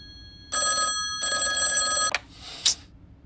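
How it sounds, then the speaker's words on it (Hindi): An indoor telephone bell ringing in two long bursts with a pause between, fairly loud and close, followed by a short clatter as the handset is picked up. "अरे ये फोन भी ना कभी भी बज जाता है।"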